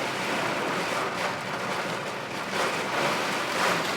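Water rushing down steadily outdoors during an 80 mph wind storm with hail, a continuous broadband wash of rain and wind noise, loud and unbroken throughout with slight swells in intensity.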